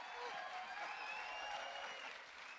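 A studio or podcast audience claps in a steady patter of applause that runs the full length at a fairly low level and tapers slightly at the end.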